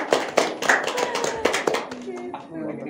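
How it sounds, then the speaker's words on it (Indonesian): A group of people applauds during a radio station event, producing quick, close hand claps mixed with overlapping voices. "Oke, tepuk tangan untuk diri kita masing-masing."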